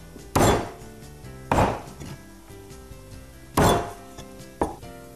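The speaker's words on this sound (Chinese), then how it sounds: "哎，剁成大小均匀的块呢" A cleaver chops an old duck into even pieces on a board, four heavy separate thunks at uneven spacing, close and loud, each ringing briefly before fading, with no talk.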